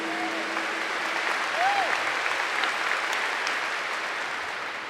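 An audience claps together at a church talk by Padre Rufus, a dense, even wash of applause that swells slightly and then holds steady.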